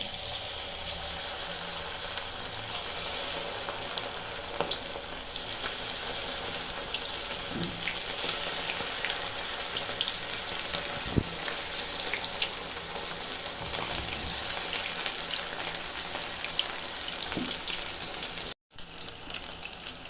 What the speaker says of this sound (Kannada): ಎಣ್ಣೆ ಕಾಯ್ದಿದೆ ಇವಾಗ ಕಬಾಬ್ ಹಾಕ್ತಾಯಿದ್ದೀನಿ